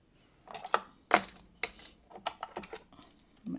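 A small paper trimmer slices through a photocard sleeve in a few quiet, sharp crisp cuts and clicks, close up, with no talking.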